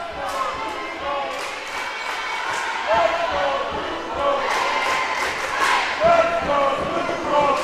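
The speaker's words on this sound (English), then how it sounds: "The Blue Golds crowd chanting, "Let's go Blue Golds."" Home crowd at a college volleyball match between Elmhurst University and University of Wisconsin-Eau Claire chanting "Let's go Blue Golds" in a gym, rhythmic group voices with ball bounces and thuds, heard under a commentator's talk.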